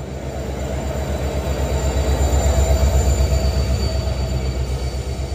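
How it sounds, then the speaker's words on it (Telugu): The Agartala Express, running from Silchar, rumbles loudly and steadily along the track with a continuous high wheel squeal riding over the low roar, heard close up from on board with no voices. "అగర్తలా ఎక్స్ప్రెస్ ఫుల్ వ్యూ అయితే ఇది."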